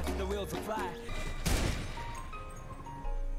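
Video game gunfire crackles in a dense burst of shots midway through, loud and close, with a voice heard before and after it.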